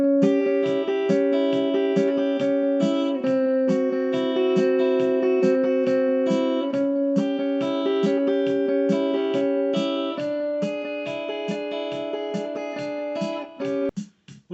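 Southern gospel lead lick in A, picked on guitar over a 1-4-5 progression and practiced slowly with a drum machine at 73 bpm; steady ticking beats run under ringing, sustained guitar notes for about fourteen seconds, then stop abruptly.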